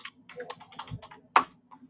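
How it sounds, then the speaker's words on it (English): Quick keystrokes clatter on a computer keyboard, a short irregular burst of close, light clicks with one sharper tap near the end. "So here I'm going to type in sort"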